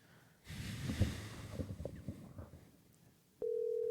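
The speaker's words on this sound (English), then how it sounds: "He was waiting by the phone. It was one ring." A telephone line connects with a burst of rustling noise, then a single steady ringing tone starts abruptly near the end and holds at a constant pitch.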